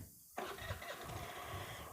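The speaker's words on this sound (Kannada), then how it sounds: "ಗಾಡಿ ಸ್ಟಾರ್ಟ್ ಮಾಡ್ಬೇಕಂದ್ರೆ ಜಸ್ಟ್" New Suzuki Access 125 scooter starting, a brief quiet whir followed by the small engine catching and settling into a soft, even idle, close by.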